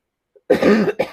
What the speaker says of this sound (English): All of a sudden, I'm coughing.